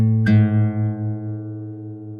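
A single guitar string, slightly flat while being tuned by ear, is plucked once and rings as a clear, sustained tone that slowly fades, close and alone.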